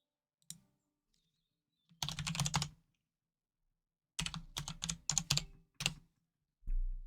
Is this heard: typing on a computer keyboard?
yes